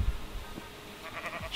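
A single faint Minecraft sheep bleat sounds briefly against a hushed game background, alone without voices.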